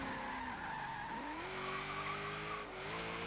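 A 1945 Jeep Willys MB in an autocross race in Forza Horizon 3 squeals its tires while struggling for traction, a sustained skid over the engine's droning pitch that dips and climbs as the revs shift.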